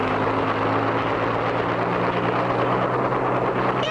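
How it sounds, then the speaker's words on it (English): A cartoon flying contraption gives a steady, loud whir like a helicopter rotor, a dense continuous drone with a low hum and no pauses. "We're flying! Just like a helicopter, Spinner."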